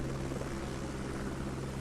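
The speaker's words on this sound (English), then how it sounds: "Wow, helicopter ride." A helicopter flies in a video game, giving a steady, loud rotor and engine drone with no breaks. No one speaks over it.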